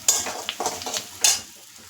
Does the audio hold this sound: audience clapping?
no